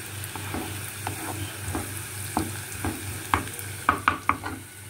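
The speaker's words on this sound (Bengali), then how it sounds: "এবার এটাকে একটু ভালো করে ভেজে নিয়ে তারপর এই পাওভাজির যে কারিটা, এটা এর মধ্যে দিয়ে দিতে হবে" Pav bhaji mixture frying in a pan with a spatula, a steady sizzle under a series of sharp stirring scrapes and taps that quicken toward the end, close and clear with no talk.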